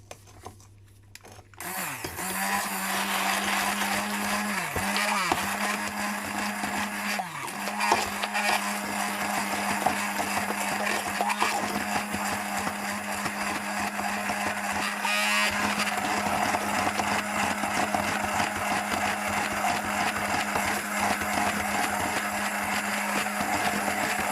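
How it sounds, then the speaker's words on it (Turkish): A kitchen blender mixing cake batter with sugar whirs into a steady, loud, high-pitched drone after a brief start, running continuously with slight pitch dips as it works. "Hemen blenderimle."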